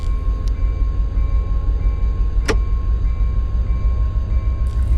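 A freight locomotive in the Run 8 train simulator pulling hard up a climb at throttle notch 7 or 8 with sanders on, giving a steady, heavy low diesel drone with faint tonal whines and a single sharp click.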